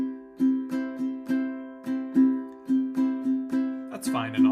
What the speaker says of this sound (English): If I play it normally, it would just be